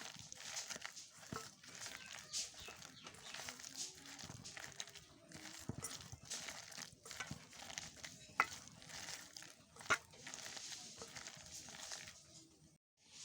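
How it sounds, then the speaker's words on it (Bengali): Lentil fritter paste of masoor dal, chopped onion and green chilli, with no water added, squelches and squishes under hands being kneaded and mixed, soft irregular wet pressing sounds continuing steadily at close range. "এইগুলো দিয়ে ভালো করে আমি এবার চটকে চটকে মেখে নেব"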